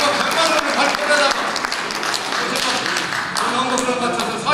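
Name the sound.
audience applause at a meeting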